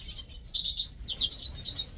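Captive mealy redpolls and goldfinch hybrid birds chirp and twitter, a few short bright calls in quick bursts at moderate distance over a quiet background.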